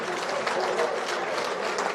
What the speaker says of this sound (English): I think you give the governor a round of applause